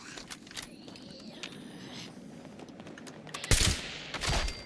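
Automatic gunfire in the video game Fallout 76, faint and distant through most of the stretch, then sharper rapid bursts crack out near the end.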